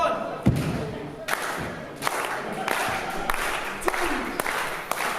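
A crowd at a small professional wrestling show cheers and claps steadily, with repeated thuds and slams from the ring cutting through the noise.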